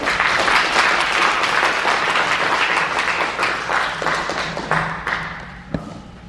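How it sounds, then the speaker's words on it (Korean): An audience at a Korean book launch event gives a full round of applause, dense at first and thinning out toward the end, with a few scattered claps and a thump. "다시 한번 박수 주십시오."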